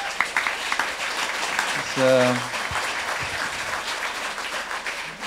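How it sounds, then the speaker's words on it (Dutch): Audience applause at a late-night talk event, steady clapping from a crowd with a voice speaking briefly over it. "Ja, even een applaus voor haar."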